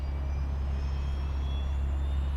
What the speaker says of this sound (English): when he tried to start the engine, it sounded like this